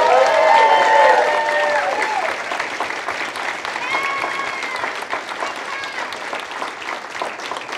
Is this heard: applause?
yes